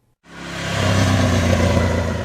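Moto Guzzi Norge V-twin motorcycle engine out on an open country road, starting after a brief silence and settling into a steady, loud, close-up drone with a low rumble, without any talk.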